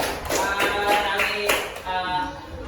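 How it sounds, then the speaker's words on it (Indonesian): Students in a classroom give a round of hand claps, a quick burst of scattered slaps that fades over about two and a half seconds, with faint voices mixed in. "silakan kasih tepuk tangannya."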